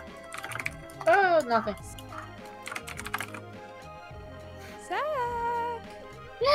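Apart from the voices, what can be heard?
typing on a computer keyboard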